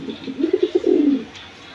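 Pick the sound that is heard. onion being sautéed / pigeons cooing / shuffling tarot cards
pigeons cooing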